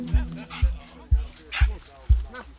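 Several dogs bark and whimper in repeated loud, close yips during an emergency animal rescue intake with big crates, while people talk in the background.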